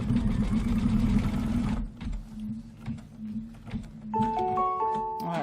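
An embroidery sewing machine stitches a placement line on a Kimberbell pillow wall hanging, a steady close mechanical whir with rapid needle rhythm that slows and stops, followed by a few beeps.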